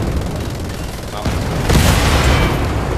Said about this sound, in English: It was the grenade and it was the rocket coming at me.